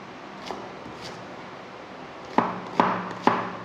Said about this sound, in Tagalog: Hiwa-hiwain ko na yung sibuyas.